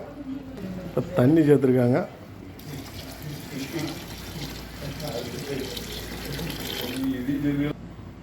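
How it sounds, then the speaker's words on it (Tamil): Water runs and splashes steadily into a pot of mutton pulao with rice for several seconds, with a short burst of talk near the start and faint voices underneath. "இப்போ தண்ணி சேர்த்துருக்காங்க."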